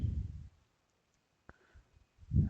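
A single crisp computer mouse click on a Next button, sharp and close, set in near-silence between soft bursts of low rumble at the start and end.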